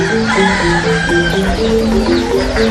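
Roosters kept as fighting cocks crow and cluck loudly and continuously in Indonesia, several overlapping birds close by against a busy background.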